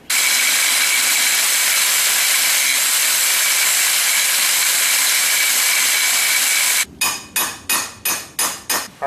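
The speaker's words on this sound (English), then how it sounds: "So I'm going to go grind that off" Power grinder cutting off a steel hinge during a tire carrier install, a loud sustained high whine for about seven seconds, then a series of rhythmic sharp hammering strikes.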